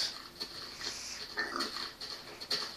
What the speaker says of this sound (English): Got your pigs?